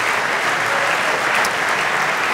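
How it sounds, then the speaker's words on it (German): Studio audience at a talk show applauding to welcome a guest, a dense, loud, continuous wall of clapping from many people close by, without speech on top. "ist Jörg Becker, den wir herzlich begrüßen mit einem freundlichen Applaus."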